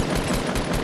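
Rapid bursts of gunfire from a Fortnite match ring out, a quick string of loud, closely spaced shots.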